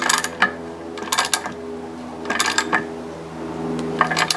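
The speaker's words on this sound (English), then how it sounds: "tighten it up for where we think it's on there good enough" A ratchet socket wrench clicks in several short bursts while tightening the prop nut on a Yamaha 225 HPDI outboard, with the propeller braced against a block of wood; close, metallic ratcheting with pauses between strokes and no speech.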